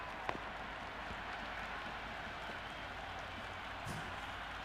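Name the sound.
cricket stadium crowd cheering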